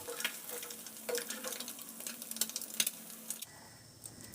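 Whole cumin seeds sizzle in hot frying oil, a soft crackling hiss with light stirring clicks that stops abruptly near the end, close and moderately quiet with no talking.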